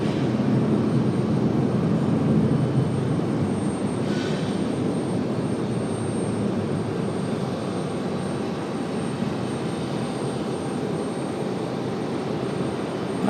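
An airliner lands at RDU, its broad engine roar rumbling steadily and strongly for the whole stretch with no talk over it.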